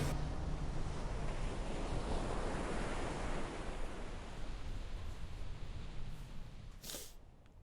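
Ocean waves rolling and washing in a steady roar that slowly eases, with wind rushing across the microphone and a brief sharp noise near the end.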